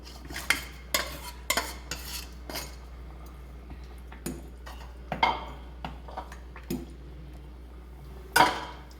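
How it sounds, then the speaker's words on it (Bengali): A fish head going into a pot of simmering rice and potato gravy, heard as a string of sharp spoon and utensil clinks against the pot, spaced irregularly over a steady low hum, with a louder clatter near the end. "এবার এই গ্রেভিতে মাছের মাথাটাও দিয়ে দেবো।"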